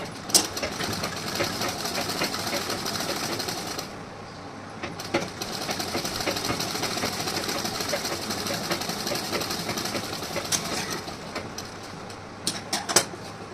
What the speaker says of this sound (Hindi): और यहाँ से इस साइड में मैं स्टिचिंग करूँगी।